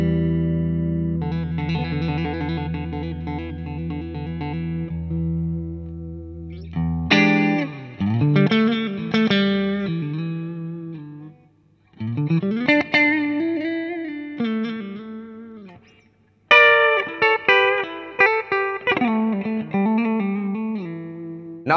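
Clean electric guitar through a Boss MS-3 multi-effects switcher with light compression and reverb: a sustained strummed chord rings out, then several bursts of picked notes and chords, loud and close, with no voice.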